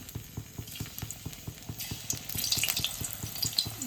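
Raw banana slices drop into hot oil and fry with a crackling, bubbling sizzle that swells after the first couple of seconds, over a steady low rhythmic clatter, close and moderately loud.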